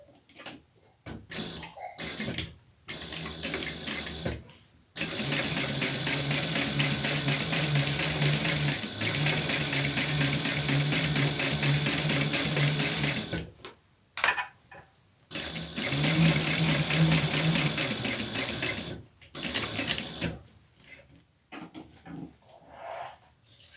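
A sewing machine stitches with black thread at a long stitch length of 5, running in two sustained loud bursts with short stops and handling clicks between them, no talk.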